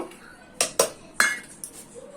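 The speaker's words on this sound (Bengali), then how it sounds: "এটাকে আমি প্রেসার কুকারে দেব। এর সাথে আমি ছোলাটা দিয়ে দেব" A pot and chickpeas go into a pressure cooker in a kitchen: a few sharp metallic clanks and clinks land at irregular moments over a quiet background, close by.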